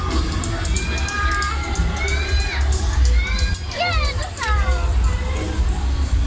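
Children scream and shout excitedly on a funfair ride, a loud crowd of young voices with rising and falling shrieks over a constant low rumble of machinery and background noise.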